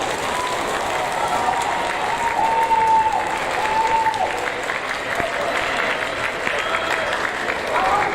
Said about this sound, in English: You may now give them a round of applause.